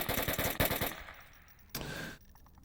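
Gunfire in the VR shooter Onward during a competitive match: a rapid automatic burst, then a short pause and a second, shorter burst, loud and sharp.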